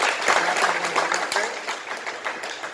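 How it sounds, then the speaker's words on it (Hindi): Audience clapping at an anti-drug event run with police support in Aurangabad, a dense, steady patter of many hands lasting a few seconds with faint voices mixed in. "एक बार हम तालियां बजाकर"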